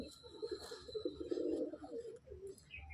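Andhra Chennai breed pigeon cooing softly in a short low burble, faint and close, with light background noise and no speech.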